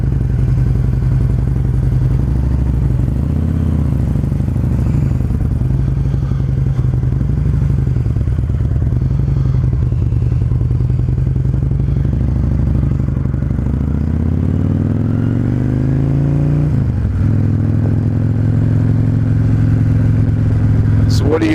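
A motorcycle is ridden on a cool February day in Ohio, its engine a close, continuous droning rumble with wind noise, briefly dipping and changing pitch near the end as the revs shift.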